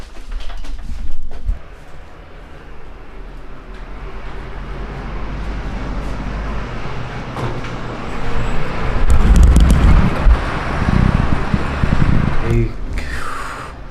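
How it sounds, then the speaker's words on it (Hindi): Cold wind blows outdoors in a steady, fairly loud low rumble with gusts, swelling stronger in the second half, while traffic noise passes in the background. "बहुत बहुत ठंडी हवा चल रही है यार अभी"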